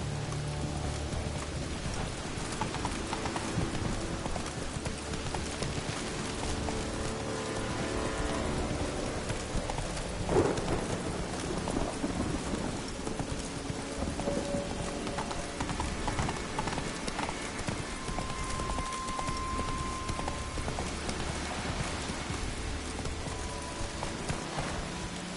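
Horse hooves clip-clopping steadily in The Witcher video game, a continuous galloping rhythm under rain and soft ambient game music, with a brief louder thump midway and no talking.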